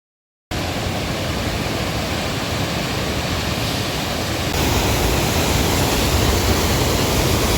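A waterfall pours into a clear flowing river beneath tall trees, a loud, dense, unbroken roar of rushing water that starts abruptly after a brief silence and swells slightly stronger partway through.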